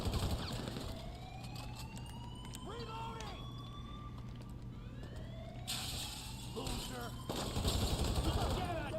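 Gunfire in the video game GTA Online, scattered shots under a wailing siren and a continuous low hum, with a voice speaking over it.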